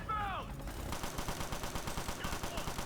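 Automatic gunfire rattles in rapid, steady bursts in Ghost Recon: Future Soldier, close and loud, with a brief voice at the start.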